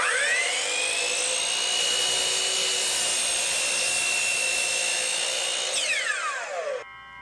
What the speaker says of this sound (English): We can now move our workpiece over and make our cut.